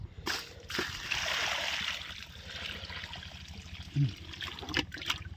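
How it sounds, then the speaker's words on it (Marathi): Water from a bucket is poured out in a splashy, trickling stream, moderately close and somewhat faint, with a low background hum and a voice talking over it. "ही पाण्याची बादली घ्यायची उचलायची इथं वतायची"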